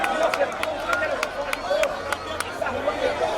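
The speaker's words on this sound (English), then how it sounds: "The crowd loves it." Baseball5 street championship crowd in Havana, Cuba, cheering after a run scores: a steady roar of many voices with scattered sharp claps running through it, close and lively throughout.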